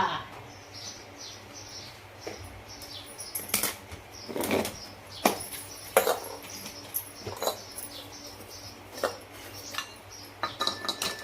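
Pots, dishes and cutlery clink and clatter while tea is being made in a home kitchen, giving sharp, irregular metallic knocks close by with quiet gaps between them.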